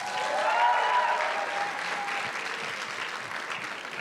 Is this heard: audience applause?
yes